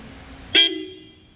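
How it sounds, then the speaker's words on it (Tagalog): A single loud, sharp supersonic car horn blast from a Toyota Hilux Conquest sounds close by, cutting off abruptly and leaving a brief ringing tail. "And then nilagyan natin siya ng supersonic horn."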